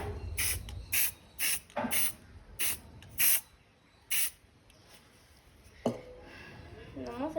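A spray paint can sprays a sunset design onto a sheet in a series of short sharp hissing bursts, about seven in a row, close and loud, followed by quieter rustling and a voice speaking near the end.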